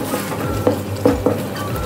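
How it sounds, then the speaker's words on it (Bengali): Kadai paneer masala being stirred in a kadai, a low sizzle under a few distinct spoon scrapes and clanks against the pan, with no voices. "এটা দিয়ে কিছুক্ষণ নাড়াচাড়া করব।"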